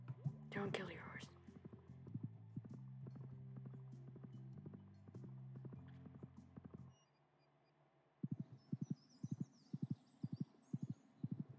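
Horse hooves clip-clop in the Stardew Valley farming game, first under a low steady hum, then as a run of sharp, evenly spaced clopping steps near the end, with faint whispered talk early on.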